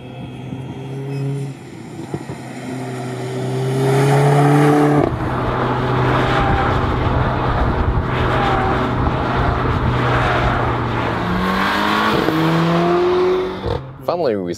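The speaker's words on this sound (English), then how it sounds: "And you hear the RPMs are going very high" A Mercedes-AMG A45 engine revs high on a racetrack in sport handling mode, a loud sustained rising whine that climbs through gears with brief drops at shifts, accompanied by talking.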